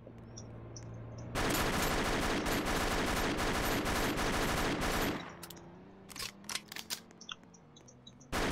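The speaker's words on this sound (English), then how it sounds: "I'm gonna try to shoot this officer here" Rapid gunfire in the video game ER:LC, aimed at a police officer, crackles loud and continuous for several seconds, then cuts off to quieter scattered clicks and game sounds.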